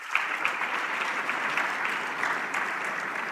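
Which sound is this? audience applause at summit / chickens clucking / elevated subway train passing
audience applause at summit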